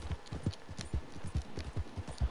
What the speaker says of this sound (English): I'm riding your horse.